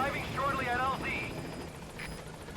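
A Pequod helicopter arriving in Metal Gear Solid V: The Phantom Pain, its steady rotor drone beneath a voice speaking over radio.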